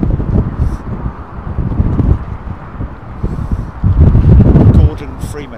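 Strong wind gusts at London Heathrow Airport roar against the microphone in loud low-pitched surges, with a voice speaking over the buffeting and a few faint higher sounds.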